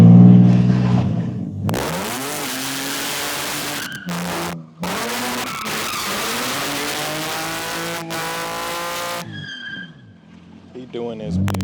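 A BMW E36 engine revs hard in repeated loud bursts, the pitch climbing and dropping with brief gaps between pulls, alongside tire squeal, close and dominant.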